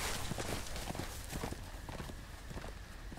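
Horse hooves clip-clop in a steady walking rhythm in the Game of Thrones episodic video game, moderately close over a broadband background hiss with no speech.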